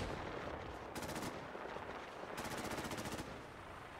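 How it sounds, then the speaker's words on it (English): Rapid bursts of video game gunfire shooting down an alien UFO, two loud automatic volleys over constant background action noise, with no talk. "I'm gonna shoot this one down, boys."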